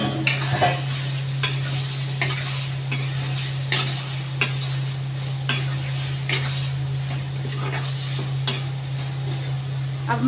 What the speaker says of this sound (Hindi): अब मसालों के साथ कटहल को भूनते हैं।